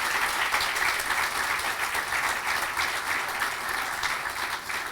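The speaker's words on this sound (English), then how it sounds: "Give them a round of applause." An audience at the opening of a new county library in Middletown gives a steady round of applause, dense and even from start to finish with no voices rising above it.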